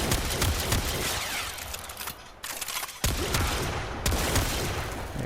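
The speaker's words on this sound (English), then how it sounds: "This is more of your energy type of a shotgun versus slug or pellet." An energy-type shotgun from the video game Warframe fires in rapid, dense bursts of crackling blasts, loud and close, with a couple of brief pauses between volleys and no talking.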